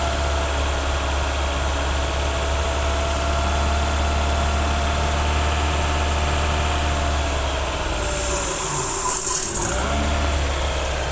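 A petrol car engine idles steadily and close by, a low continuous hum with a faint rise around eight seconds, and no voices over it.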